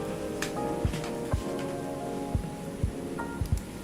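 Steady rain patters outside with scattered heavier drops and faint low rumbles of thunder, a constant wash of noise with no voices.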